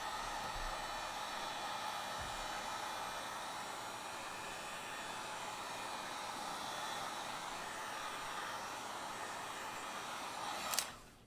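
A heat gun blows steadily on the corner of a Samsung Galaxy S22 Ultra screen, a constant, close, hissing airflow that ends with a click as it switches off.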